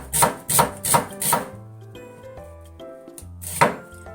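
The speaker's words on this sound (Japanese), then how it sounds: "できるだけ薄く切ります" A knife thinly slices a new onion on a cutting board: four quick rhythmic chops, a pause with faint movement, then one more sharp chop, close and crisp.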